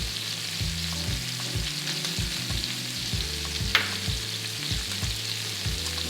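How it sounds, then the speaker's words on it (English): A seafood base for a pasta sauce with Italian cheeses sizzles steadily in a pan over medium heat, a close, even bubbling hiss with soft clinks, no talking. "We're gonna let that simmer, guys."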